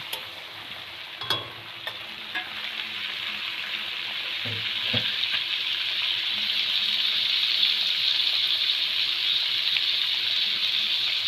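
Onion and green chili going into a frying fish curry with potatoes: a steady hissing sizzle that swells and grows louder over time, with a few sharp knocks near the start and no speech.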